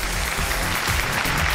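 A studio audience on a Chinese relationship-mediation show claps steadily as a couple is welcomed onto the stage, a dense continuous burst of applause with no voices heard.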